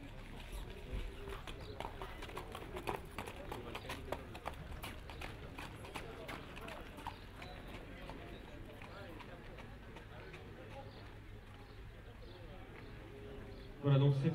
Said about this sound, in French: Au trot.